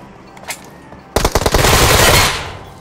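Video game gunfire breaks out as a loud, rapid automatic burst that rattles on for well over a second and stands close and dominant, after a quieter shot or two just before.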